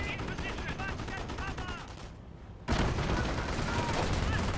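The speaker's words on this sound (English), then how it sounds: "We're seeing some Panzerschreck fire, or Panzerschreck misses" Panzerschreck rocket fire and battle noise from the Company of Heroes video game: a dense stretch of gunfire and explosions, a brief drop in the din, then a sudden loud burst of renewed combat.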